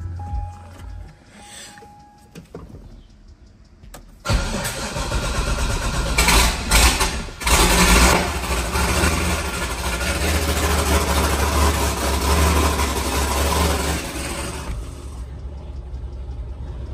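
Chevrolet Corvette C7 ZR1 engine cranks and fires after a few seconds of quiet, then settles into a loud, steady idle that holds close by until the end.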